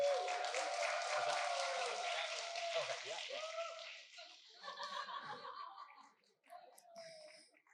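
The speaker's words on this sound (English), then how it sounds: "let's give him a round of applause" Wedding guests applauding, a dense wash of clapping mixed with laughter that swells early and then thins out into scattered claps and chatter.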